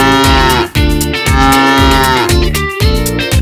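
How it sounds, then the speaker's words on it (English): Repeated cartoon-style cow moos ring out in a bouncy rhythm over a children's nursery-rhyme music track, loud and close, with each moo rising and falling in turn. "The cow says moo moo."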